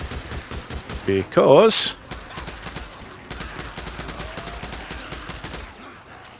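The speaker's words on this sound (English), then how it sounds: "I'm not going to keep the gunfire going for too long here" Video game gunfire in Days Gone, rapid repeated shots in quick bursts with a louder blast partway through, a voice speaking briefly over it.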